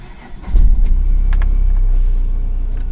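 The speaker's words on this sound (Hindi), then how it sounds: "तो एक ही स्टार्ट में गाड़ी ऑन हो गया" A Tata Nano car engine cold-starts after sitting unused for three weeks, catching on the first crank about half a second in, then settling into a steady, close, low idling rumble with no talking.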